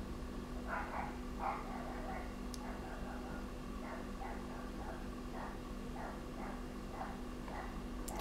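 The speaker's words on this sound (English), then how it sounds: "that's the neighbour's dog barking" A neighbour's dog barks repeatedly in short bursts somewhere in the distance, faint against a steady low background hum.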